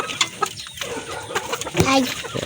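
Yellow leg hatch gamefowl chickens cluck close by in brief, scattered calls, mixed with shuffling and some background voices.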